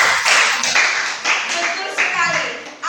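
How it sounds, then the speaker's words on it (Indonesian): Classroom clapping, a burst of quick, close hand claps in short rhythmic groups, mixed with voices of children and a teacher. "Tepuk tangan buat Mbak Des."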